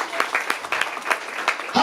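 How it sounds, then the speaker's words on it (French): A church congregation applauding in praise of Jesus Christ, a dense, steady wash of many hands clapping together, fairly close and continuous, with no talk over it. "Clap for Jesus Christ."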